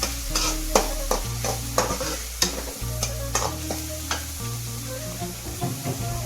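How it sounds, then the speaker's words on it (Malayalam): Ground onion-coconut paste frying in oil for ulli theeyal, a constant sizzle with repeated sharp scraping stirs of a spoon against the pan over a low steady hum. "നമ്മൾ മിക്സിയിൽ അടിച്ച് വെച്ച അരപ്പ് അതിലേക്ക് ചേർത്തിരിക്കുകയാണ്."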